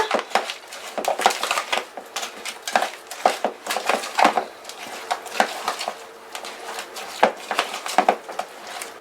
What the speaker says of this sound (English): you're going to take up all those ingredients and you're going to mix them together